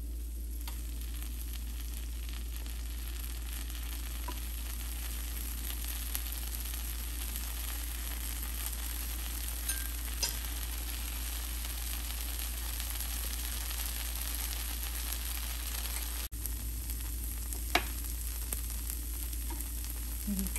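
A tomato dosa fries in oil on a pan, giving a steady, even sizzle that crackles continuously at close range, with occasional faint clicks and no talking.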